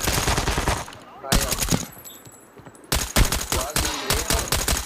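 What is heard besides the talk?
gunfire in a shooter video game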